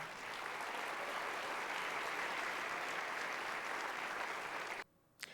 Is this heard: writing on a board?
no